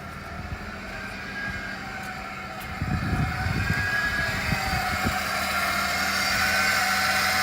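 A 1989 Ford F350 pickup engine runs with a low rumble, then swells into a couple of louder revs midway through before settling back to a steady drone; no one speaks.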